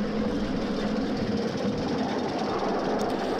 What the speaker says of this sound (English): the train slows a little for Swinderby Road exit gate crossing